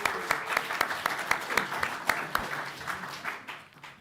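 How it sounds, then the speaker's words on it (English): Audience at a debate event on fossil fuels gives a quick round of applause, dense clapping with a few sharp individual claps standing out, fading gradually toward the end. "A quick round of applause for them."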